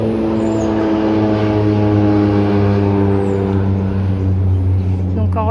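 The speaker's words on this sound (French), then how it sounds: "Ah, et l'avion." A propeller airplane flies over the Maya stelae at Quirigua, Guatemala, with a loud, steady droning engine hum and rising whine that continues throughout, while a few faint voices are heard beneath it.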